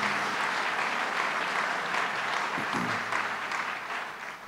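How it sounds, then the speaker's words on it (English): An audience at a film screening applauds Senator Flanagan with sustained, even clapping that fills the room and then gradually tapers off at the end. "Let's give a round of applause to Senator Flanagan."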